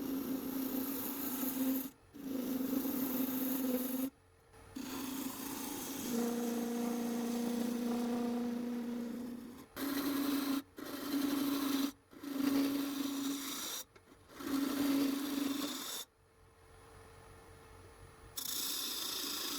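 A wooden Easter egg is hollowed on a lathe: the tool scrapes and rubs against the spinning wood in bursts of several seconds, broken by short pauses, fairly close but quiet, with no talk.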